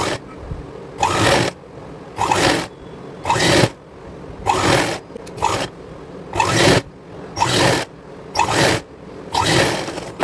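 A sewing machine stitches a double-folded hem on a young girl's co-ord set in short, loud bursts of rapid whirring, about nine runs separated by brief pauses, close up with no talk.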